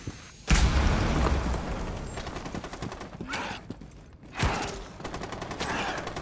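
Rapid gunfire in a zombie video game comes in bursts of sharp cracks and booms, with a loud volley at the start and another later, and a faint voice underneath.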